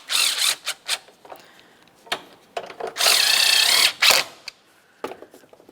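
A power tool tightens the battery hold-down bracket bolts on a 1994-2002 Dodge Ram 2500, with short whirring bursts and one longer, louder spin in the middle, close up, separated by quiet pauses and light clatter.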